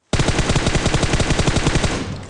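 Rapid automatic gunfire from PUBG Mobile, a loud sustained burst of closely spaced shots lasting about two seconds with no talk over it.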